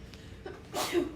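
A single sneeze bursts out in a classroom, short and fairly close, with a quick intake of breath just before it over a quiet room.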